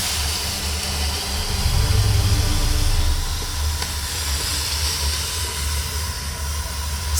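Steam hisses loudly in the A New Beginning game, a broad rushing wash that swells for a couple of seconds and then settles into a steady, slightly quieter hiss that runs on alone.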